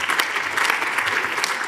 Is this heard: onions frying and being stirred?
no